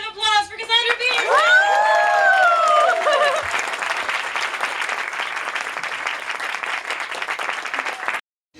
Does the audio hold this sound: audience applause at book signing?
yes